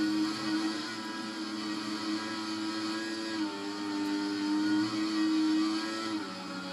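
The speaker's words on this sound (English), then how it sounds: "and listen to the revs." F1 car engine holding high revs through fast corners at Suzuka in the F1 2014 racing game, a steady, continuous whine with slight pitch shifts, moderately loud and heard alone.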